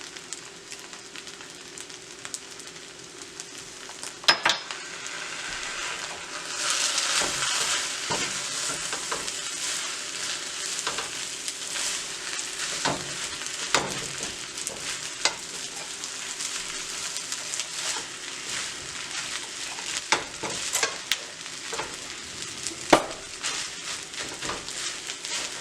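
Fried rice with soy sauce sizzling in a pan while being stirred and tossed. A continuous crackling fry runs under frequent scraping and clattering strokes, loud and close, with no talking.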